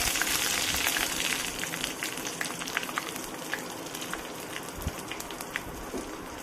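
Chillies and curry leaves sputter in hot oil on a gas flame turned to simmer, a steady dense crackle with scattered sharp pops throughout, close and fairly loud with no talking.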